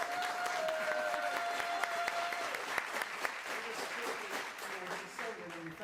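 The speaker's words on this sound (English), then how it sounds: "I think we all need a round of applause for Mr. David Ford here." An audience at an evening theatre show claps for a man being honoured, a broad wash of applause running throughout while a sustained musical tone and other sounds sit beneath, a voice briefly audible under the clapping.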